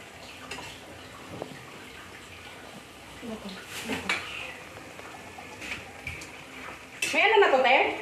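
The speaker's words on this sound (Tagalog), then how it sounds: "So, haluin natin siya." Mixed vegetables being stirred in a pan make scraping and clinking sounds with soft sizzling underneath, which grow louder and busier toward the end, while a voice talks faintly in places.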